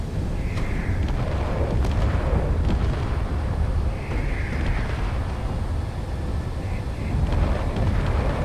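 Artillery in the video game Space Engineers pounds away in heavy, overlapping booming blasts that rumble continuously, with a few sharper bursts rising above the low roar.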